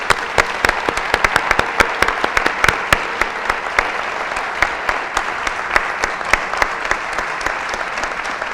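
Audience at a citizenship course lecture gives a speaker a strong round of applause, dense clapping with sharp individual claps standing out, sustained and even for several seconds.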